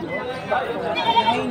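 An Anglo-Nubian goat bleats with a wavering cry in a short burst close by, while voices chatter nearby on a Batangas farm.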